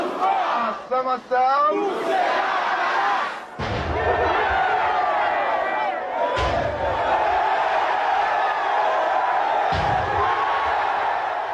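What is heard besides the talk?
frenzied crowd cheering Jean-Bertrand Aristide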